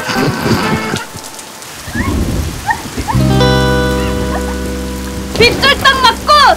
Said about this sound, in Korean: 어머, 세상에 비가 내리네.